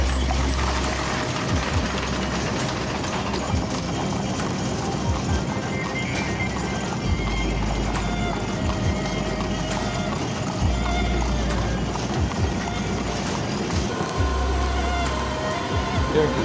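A horse-drawn carriage rolls through a Bulgarian town in traffic, with steady clip-clopping hooves over a broad, busy outdoor wash and buzzing insects.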